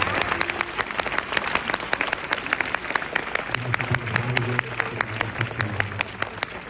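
Applause breaks out for flash mob dancers at a blood donation day event in central Como, with distinct individual claps over a crowd murmur and some low voices joining partway through.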